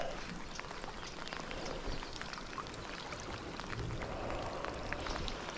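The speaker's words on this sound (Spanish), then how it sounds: "está lloviendo." Soft, steady patter of rain with scattered drops ticking on a surface, fairly quiet and continuous throughout.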